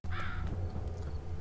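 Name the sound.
crow cawing in video game Undawn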